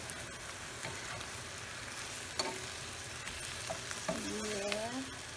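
Shrimp sizzling and frying in a hot pan as fish sauce is sprinkled in and stirred, a steady close crackle with scraping stir strokes and a brief squeak near the end.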